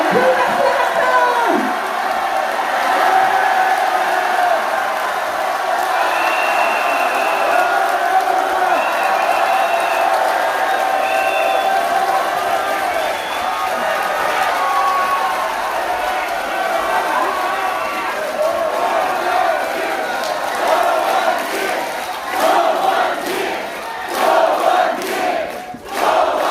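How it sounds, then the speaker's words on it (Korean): A crowd at a political party's talk concert cheers and applauds as a co-leader is called to the stage, a loud, continuous roar of voices and clapping with shouts rising near the end. "여러분 큰 박수!"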